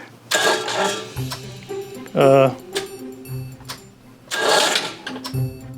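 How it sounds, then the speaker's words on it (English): An old houseboat generator's starter motor whirs and cranks its engine in short bursts that fail to catch, with brief pauses and a voice talking in between. "It sort of turns over, not very good."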